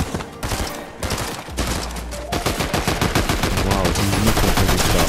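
Loud, rapid bursts of automatic gunfire in Fortnite, close and sustained, with dense repeated shots that speed up and stack toward the end.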